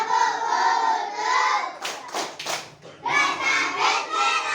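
Children clap together in a steady rhythm while chanting an Indonesian clapping song about ablution in unison, with a brief pause in the voices partway through.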